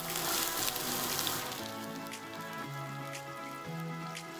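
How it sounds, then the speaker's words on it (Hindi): Chopped onion hits two tablespoons of hot oil in a pan while making arbi masala gravy, a broadband sizzle that flares loudly at first, then settles into a steady, softer frying crackle. "अब हम इसकी ग्रेवी बनाने के लिए पहले 2 टेबलस्पून ऑयल लेंगे। अब मैं इसमें डालूंगी चॉप्ड अनियन"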